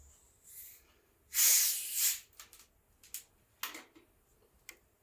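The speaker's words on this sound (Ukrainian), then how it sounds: "Відкривали велику пляшку коли і почуємо цей характерний звук." Hiss of gas escaping as a large plastic bottle of Coca-Cola is opened: a strong fizzing burst followed by several shorter hissing spurts and faint ticks, with no speech.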